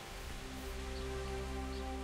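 Rain in the video game Kingdom Come: Deliverance, a steady soft patter of drops over low ambient hum, continuous and fairly faint, with no voices.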